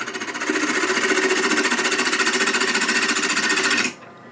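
A wood lathe with the tool cutting a small tenon on a turning, a loud, rapidly pulsing buzz held steady for several seconds before it stops abruptly.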